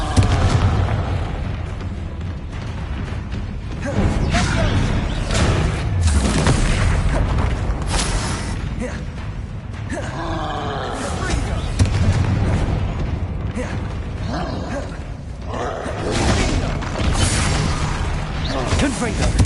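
Confringo, Glacius and Bombarda spells blasting repeatedly in Hogwarts Legacy combat, a continuous run of heavy booming explosions and bursts stacked over each other, with a voice calling out spell names over the din.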